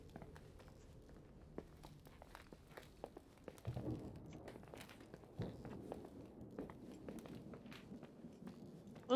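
A walking character's footsteps crunch in an irregular series of soft, close crackles, with a denser rustling stretch partway through, all fairly faint.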